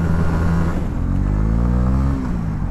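Honda CB125R motorcycle engine revving up loud and close, a steady throaty drone climbing in pitch through the rev and easing back, with no talking over it.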